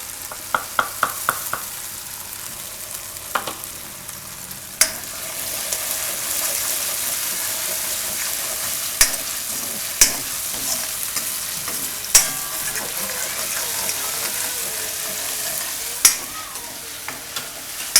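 Cumin seeds tempering in hot oil in a kadai on a lowered gas flame, a steady bright sizzle throughout with a few quick clinks of a spoon against the pan near the start and scattered scrapes of stirring.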